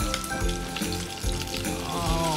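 Beef sizzles and crackles steadily as it is stir-fried in a pan with salted mustard greens, a dense continuous frying hiss with scraping stirs close by.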